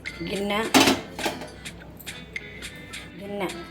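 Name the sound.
bowl being set down for cooking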